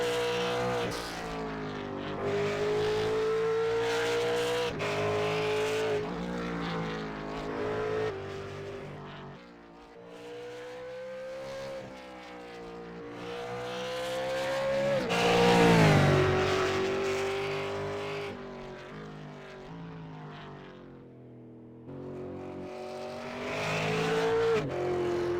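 A V8 Supercars race car on a qualifying flying lap at Bathurst, its V8 engine rising through the gears, easing off into corners and surging again, with some tyre squeal, loud and continuous.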